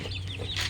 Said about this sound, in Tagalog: ito na mga classmate yung mga sisiw natin na galing sa hatcher natin